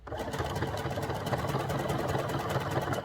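A domestic sewing machine stitches fabric appliqué in a steady, fast mechanical whir with rapid regular needle pulses. It runs continuously and close by, with no voices.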